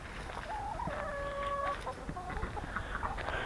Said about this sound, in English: Kind of afraid of these chicks. They're kind of aggressive.